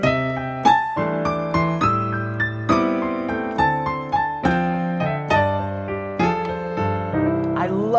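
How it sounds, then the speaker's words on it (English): A guitar plays a bluesy phrase of picked notes, several of them gliding smoothly up or down in pitch between notes. "technique number 3 is the slide technique, which sounds like this."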